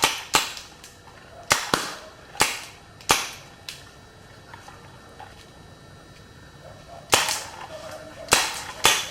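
Toy cap guns fire in a shooting game: sharp, loud cracks in irregular clusters, with single shots and quick doubles separated by short pauses, no talking over them.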